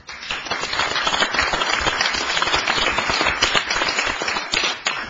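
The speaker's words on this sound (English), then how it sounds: "I think that deserves an applause." A city council chamber breaks into loud, steady applause from many people, close and continuous for the whole stretch, with no talk over it.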